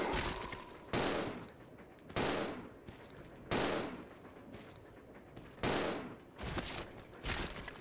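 Gunfire in the video game Resident Evil Zero HD Remaster rings out in about six sharp, separate shots, each with a trailing echo, spaced a second or so apart.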